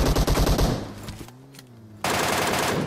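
Automatic rifle fire rattles out in PUBG Mobile, starting with a rapid burst of close, loud shots, then a brief lull, then another dense, sustained volley breaking in abruptly.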